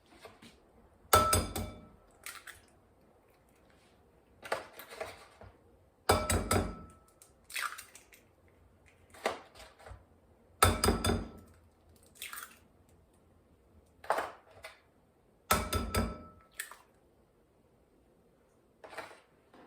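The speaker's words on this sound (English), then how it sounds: "I'm going to crack 4 eggs" Four eggs being cracked into a bowl for plain fried rice: a series of sharp shell taps and clinks against the bowl in pairs, each followed by soft wet drips and squishes, close and fairly quiet.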